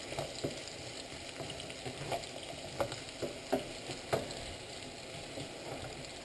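Root vegetables frying over high heat in a pan, a steady close sizzle with occasional louder pops and stirring scrapes, no voices.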